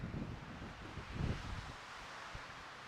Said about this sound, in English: Gosh, it's windy out here.